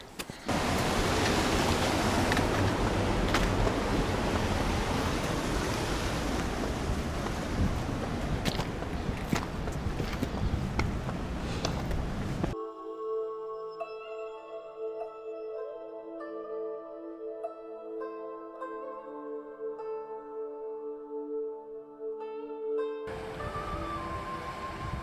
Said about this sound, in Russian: справа журчит река